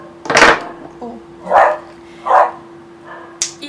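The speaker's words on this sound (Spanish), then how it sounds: "Ahí escucharon a mi perra." A pet dog in a home barks three separate times at a steady spacing, each bark fairly loud and nearby, against a faint constant hum, with a short higher yip right at the end.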